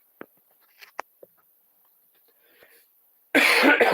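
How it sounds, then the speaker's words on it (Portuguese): A single close cough with a few small throat sounds and breaths before it, the rest quiet. "Perdão pela tosse."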